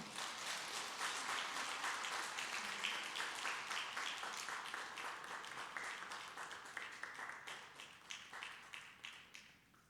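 Congregation clapping in a Korean Presbyterian church during an award presentation, a sustained round of many hands at moderate distance that thins and fades toward the end.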